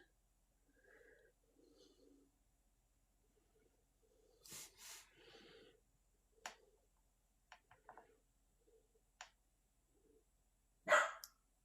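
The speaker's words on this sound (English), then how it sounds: "I don't know if you heard my dog. That's my dog." A dog barks indoors in a few short, scattered bursts, mostly faint, with one sharp, louder bark near the end and no talk around it.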